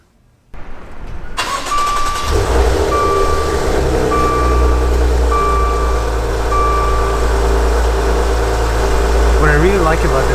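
A 2019 Maserati Levante S's Ferrari-built engine cranks and roars to life, then settles into a loud, steady idle while an electronic chime repeats; a brief voice comes at the end.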